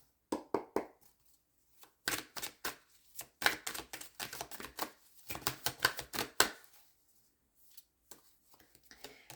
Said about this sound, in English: Let's go ahead as well and pull a couple tarot cards.